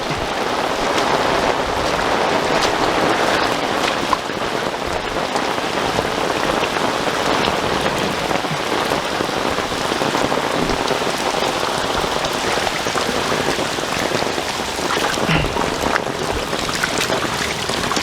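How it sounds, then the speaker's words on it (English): Heavy rain from Hurricane Harvey in 2017 pours steadily onto a hard surface close by, a dense continuous hiss of drops with no letup. "Oh boy, now it's raining even harder."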